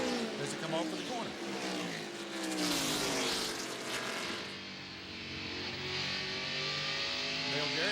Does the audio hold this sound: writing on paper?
no